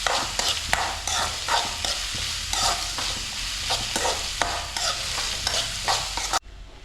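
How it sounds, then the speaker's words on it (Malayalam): Onions being stirred and sautéed in a pan with other ingredients for a soybean roast, a steady sizzle broken by repeated scraping strokes of a spoon, close and fairly loud, cutting off abruptly near the end. "എല്ലാം കൂടെ ചേർത്ത് നന്നായി ഒന്ന് വഴറ്റിയെടുക്കാം"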